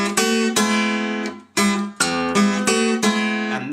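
Acoustic blues guitar playing a figure from a song, bright plucked notes and strummed chords with an open top string ringing, close and loud, with a brief pause midway and no voices.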